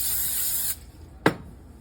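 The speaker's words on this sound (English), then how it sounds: "I'm going to spray my bowl here." Cooking spray hisses steadily into a bowl used for bagel dough, a close, even burst that cuts off sharply, followed by a single short click.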